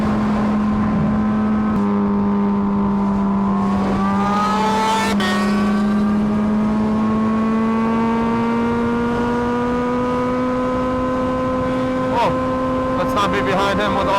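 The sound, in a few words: Honda Fireblade motorcycle engine revving at open throttle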